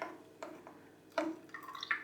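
Water goes into a pot of semolina porridge with a few faint, sparse drips and small splashes, quiet and close, in an otherwise still kitchen.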